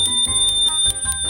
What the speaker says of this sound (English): It has the right signal, and it also has a bell.